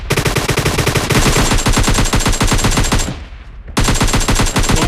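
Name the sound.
gunfire shooting an enemy in PUBG Mobile Lite video game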